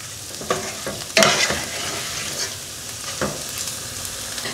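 Spice powders stirred into a chicken dum biryani mixture in a pan, soft frying hiss with a few scraping stirs, one louder scrape near the start, no voices.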